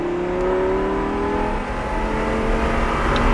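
A Lamborghini LP560-4 on a race track at NOLA Motorsports Park, its engine holding a loud, steady high-rev drone heard from inside the car, with no talk.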